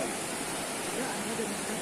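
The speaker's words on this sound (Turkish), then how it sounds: "büyük bir dere akıyor" A large mountain stream rushes steadily beside a roadside spot in the Black Sea highlands, a dense, continuous roar of flowing water.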